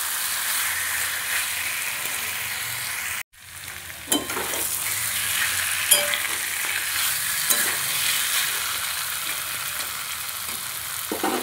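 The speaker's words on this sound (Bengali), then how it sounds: "আঁচ কমিয়ে আমি খুব ভালোভাবে এটা কষে নিয়েছি।" Mutton is stirred and sautéed with a little sugar in a pan over low heat, giving a steady soft sizzle with scraping stir strokes, close and alone.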